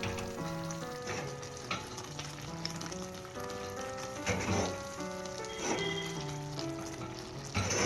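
Small fish for Kerala-style meen peera sizzle and fry steadily in a pan, a constant crackling hiss with a few louder spits, heard alongside soft background music tones.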